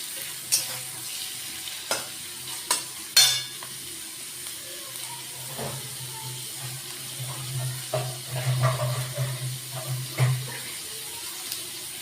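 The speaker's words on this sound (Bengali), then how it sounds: "এবার আমি পেঁয়াজটাকে ভেজে নেব।" Thinly sliced onions fry in a pan for beresta, a quiet sizzle with scattered clinks and scrapes of stirring, over a low steady hum with watery bubbling toward the end.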